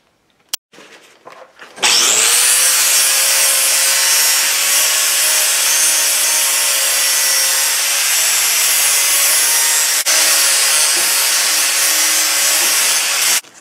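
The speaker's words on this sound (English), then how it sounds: "use a flap disc with a grinder and just sort of spin the tubing while I'm having the grinder on it" An angle grinder fitted with a flap disc grinds the end of spinning steel tubing, a loud, continuous, steady high-pitched abrasive whine that starts abruptly and runs unbroken with no talking.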